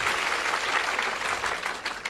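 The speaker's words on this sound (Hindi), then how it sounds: "सवाल के लिए तालियां बजाइए।" An audience bursts into brisk, dense clapping, loud and continuous for a couple of seconds.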